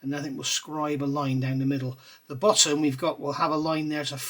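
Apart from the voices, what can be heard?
No everyday noises stand out.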